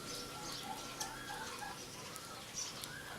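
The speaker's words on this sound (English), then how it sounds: "I created a jungle and now it's full of little birds." Small birds call faintly in a workshop garden, a few soft chirps and short notes scattered over a quiet background hiss.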